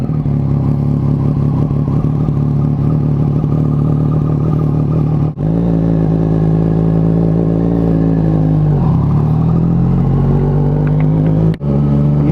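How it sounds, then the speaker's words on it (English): A Yamaha MT-09 motorcycle fitted with an aftermarket exhaust idles loudly and steadily after a cold start, then blips its throttle into a short rev before settling again, close up and with no talking. "I've obviously changed my Mt09 exhaust to an aftermarket."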